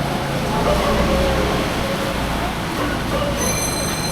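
A train arriving at a station rumbles steadily with a low drone and faint metallic wheel squeal, ending in a brief high tonal whine, with little else audible.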